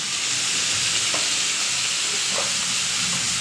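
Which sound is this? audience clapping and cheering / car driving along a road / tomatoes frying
tomatoes frying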